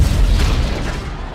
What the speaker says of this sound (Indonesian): tiba-tiba rumahnya meledak